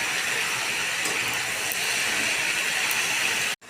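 Chopped cucumber greens hit a hot pan and sizzle in a loud, steady hiss for several seconds, close up, with no voices, then cut off abruptly.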